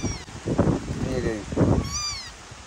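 An abandoned kitten, found in a sack while firewood was being gathered, gives several high, clear meows spread through the clip, close and fairly loud, with a person speaking in between and over them.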